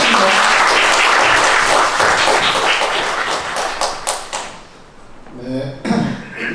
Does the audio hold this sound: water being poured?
no